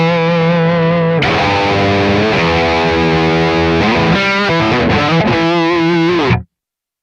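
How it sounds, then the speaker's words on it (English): Distorted electric guitar through a Kemper profiling amp preset, playing chords and riffs loudly and continuously for about six seconds before stopping abruptly; no talking. "I came up with that distortion sound based on a preset"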